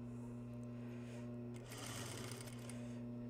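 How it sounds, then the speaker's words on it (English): A sewing machine stitching a fabric seam, a steady close mechanical whir with a constant hum and a brief surge of rattling needle action midway, running alone without talk. "I'm going to put this into the sewing machine, and I'm just going to let the machine do what it wants to do"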